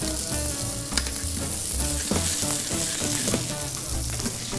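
Food fries in a hot pan until golden brown before being flipped, giving a dense, continuous close sizzle with scattered spatula clicks and scrapes, fairly loud and without speech.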